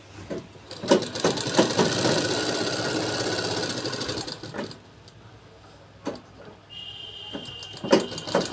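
A sewing machine runs in steady bursts as it stitches fabric along a folded edge, with a continuous mechanical whir broken by brief pauses and small clicks.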